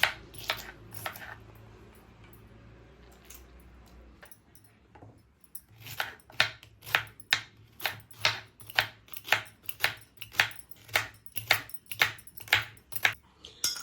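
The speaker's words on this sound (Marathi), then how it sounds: "तर आपण भेंडी जी आहे ती सर्व कापून घेतलेली आहे" Okra is cut with a knife on a board: a few chops open the clip, then after a quiet stretch comes a steady run of crisp, close knife strikes, roughly two per second.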